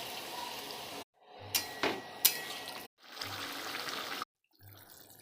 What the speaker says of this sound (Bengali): হয়ে গেছে, এবার একটু জল দিয়ে দেবো এর মধ্যে